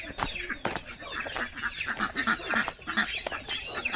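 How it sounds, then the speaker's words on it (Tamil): Ducks and small ducklings at a country house in the Kolli Hills, India, calling in a busy, overlapping chorus of quacks and peeps, close and steady throughout with no talk. "அங்கே பாரு வாத்து குஞ்சு, இங்கே பாருங்க வாத்து குஞ்சு"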